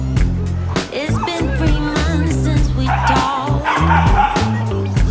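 Several dogs, including a French Bulldog nearby, bark and yip loudly in quick overlapping bursts, with whimpers mixed in, on a busy Harajuku street among cherry blossoms.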